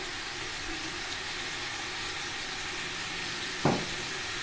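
Mint leaves and coriander sautéing in a pan for Chettinad-style seeraga samba mutton biryani, a steady soft sizzle throughout with one brief louder clatter near the end.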